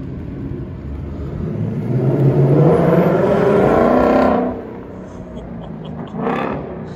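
A 2024 Ford Mustang GT in sport mode with a resonator delete revs loudly, its exhaust swelling into a sustained roar for several seconds before dropping off, then giving a shorter second burst of revving close by.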